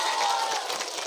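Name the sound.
audience applause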